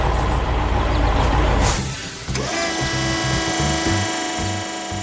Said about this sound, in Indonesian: Sekarang truk semen itu sudah kembali ke jalurnya.